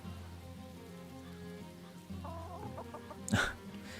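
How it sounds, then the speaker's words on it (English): Chickens in the video game Farthest Frontier, soft cooing clucks heard faintly over a quiet ambient background, with a brief sharper call near the end. "Chickens sound like kittens in some way, but they are cooing."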